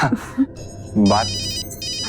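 A phone ringtone trills in a bright, repeating electronic pattern during a Hindi TV crime drama scene, following a brief spoken word and some shuffling.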